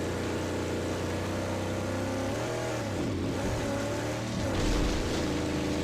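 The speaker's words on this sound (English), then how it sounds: "It's a fucking good engine. I like the sound of that." A chunky V8 car engine in the video game Mad Max rumbles steadily up close, dipping and then surging as it revs, loud and alone with no talking.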